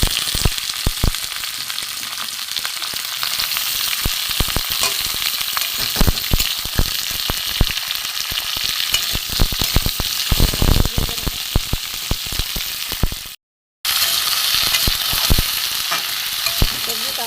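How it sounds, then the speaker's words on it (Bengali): Potatoes and eggplant, with radish, fry in oil in a pan for a vegetarian spinach chorchori, giving a steady close sizzle with scattered crackles and pops that drops out for a moment before resuming. "মোটামুটি ভাজা হয়ে গেছে"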